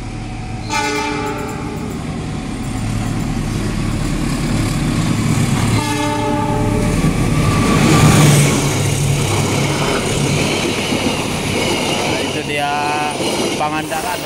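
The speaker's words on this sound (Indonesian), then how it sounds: "Ini kereta api Pangandaran dari Tasikmalaya," An Indonesian Pangandaran passenger train, running from Tasikmalaya toward Banjar, rolls past close by with loud, continuous rumble and wheel noise, sounding several long horn blasts near the start and again partway through, with a brief horn burst near the end.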